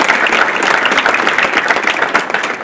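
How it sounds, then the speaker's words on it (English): A high school hall of fame ceremony crowd gives school staff a loud, close round of applause, dense rapid clapping filling the whole moment without a break. "Let's give them all a big round of applause"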